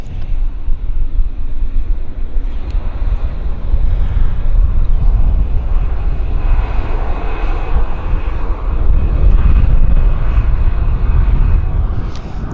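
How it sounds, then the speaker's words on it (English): A WestJet airliner rolls out after landing at Vancouver airport, its engines producing a steady loud roar mixed with wind buffeting the microphone for the whole stretch. "Very nice rollout on the WestJet."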